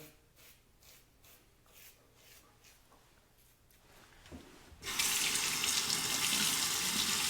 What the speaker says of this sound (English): It's got slots under the blade, so the water rinses out quickly and easily.